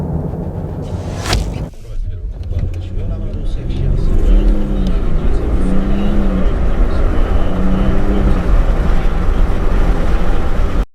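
A Mercedes-Benz GLE Coupe 350d diesel SUV accelerates hard after a brief clatter, its engine note rising through several gear changes, loud and close from the cabin, with no speech.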